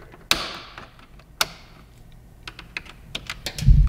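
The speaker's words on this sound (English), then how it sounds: "You push in on the center, and you'll hear it release, a little click." Plastic push pin clips on Yamaha YZF R7 bodywork releasing with sharp close clicks, two loud snaps followed by a run of lighter taps and a low rustle at the end.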